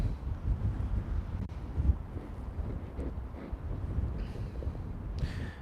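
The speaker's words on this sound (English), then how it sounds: "I feel that wind right now" Gusting outdoor wind buffets a microphone in a steady low rumble with uneven surges, loud and continuous throughout, with no speech.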